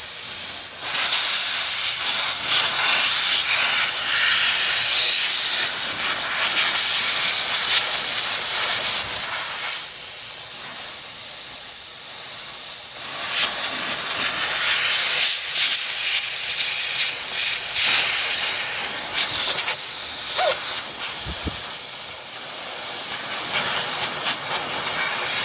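Air hissing loudly and steadily out of an RV tire valve stem after the valve core is removed, a continuous close rushing hiss with slight fluctuations that lasts the whole stretch.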